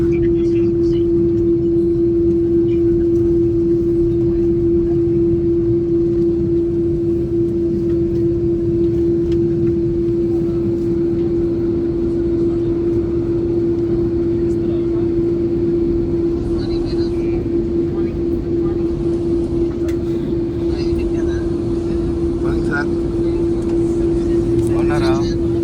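Steady, loud engine roar and a constant droning hum fill the cabin of an airliner taking off on a flight from Delhi toward Finland, with faint voices in the background.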